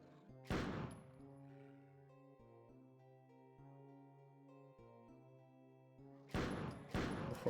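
Two rocket launcher blasts in Hellbound, a Doom mod, one loud burst near the start and a pair of heavy bursts near the end, with droning tonal game music sustained in between.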